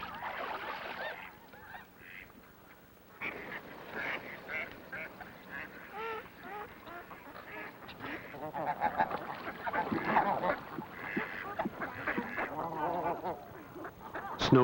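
A flock of snow geese in an estuary marsh honking in a dense, overlapping chorus, loud and continuous, with the calls growing busier toward the end.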